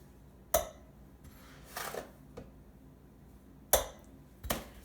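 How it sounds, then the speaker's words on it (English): A utensil clinks sharply against a saucepan a few times as sugar goes into melted butter for cornbread, with scraping stirring sounds between the irregular metallic taps, close and fairly quiet. "Now, we're gonna add our sugar."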